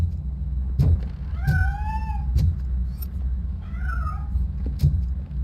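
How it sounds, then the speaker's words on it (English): A cat in RoboCop: Rogue City gives two drawn-out, rising meows over a low ambient rumble, with sharp knocking sounds scattered around them. "That cat must be hiding inside."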